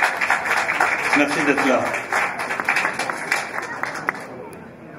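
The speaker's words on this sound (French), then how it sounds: "je demande aux musiciens d'applaudir le public" Brass band musicians at an outdoor Assumption concert in front of a chapel in Ghlin applaud the audience, a burst of clapping and crowd murmur that fades toward the end, with someone talking over it.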